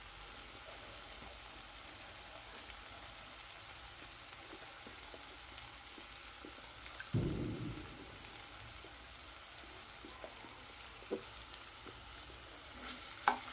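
Potatoes cooking in a pan give a faint, steady sizzle with a single dull stirring scrape in the middle and a few light clicks, quiet and close.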